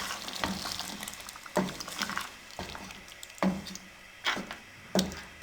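Mutton frying with yogurt in a karahi sizzles steadily close up, with five sharp stirring scrapes and splashes arriving at roughly one-second intervals.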